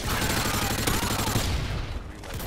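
Rapid automatic gunfire from a Call of Duty Modern Warfare 2 match, a dense loud burst of overlapping shots through the first seconds, thinning toward the end.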